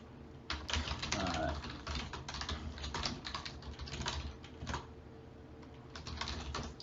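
Rapid keystrokes on a computer keyboard patter in irregular bursts, close and fairly quiet, with short pauses between runs of typing.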